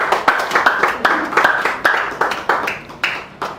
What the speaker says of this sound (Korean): 나오실 때 박수로 환영합시다